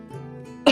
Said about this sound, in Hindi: वो बूढ़ा खांसते हुए कहता है